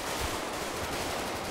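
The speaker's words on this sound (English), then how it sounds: "I will shoot you" Dense, continuous burst of gunfire in a police roleplay shootout within a video game, loud and sustained across the whole moment with a noisy, crackling wash and no clear gaps between shots.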